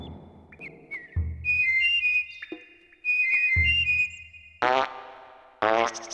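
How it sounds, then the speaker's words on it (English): Abe whistling in the video game Oddworld: Abe's Oddysee, several short clear whistled tones in brief bursts, mixed with game effects and two loud buzzy blasts near the end. "I need to look at how to whistle."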